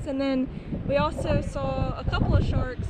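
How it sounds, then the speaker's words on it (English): Strong wind buffets the microphone while kayaking among mangroves in the Florida Keys, a steady low rumble running beneath a person talking throughout. "It's really windy."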